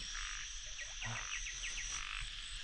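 Narrow-mouthed frogs croak in a wet field at night, a dense chorus of rapid, repeated calls layered over one another, loud and close against a constant insect-like hum, with no voices.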